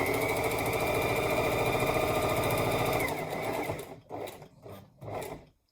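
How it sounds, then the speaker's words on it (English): An industrial domestic sewing machine stitches a wheat bag seam with a fast, loud, steady mechanical rattle for about three seconds, then slows into a few short bursts before stopping. "my sewing machine tends to get caught, even though it's supposed to be the industrial domestic"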